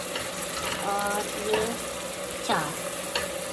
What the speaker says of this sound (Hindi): इसको अच्छे से जो है वो लहसुन अदरक को उसमें फ्राई कर लेंगे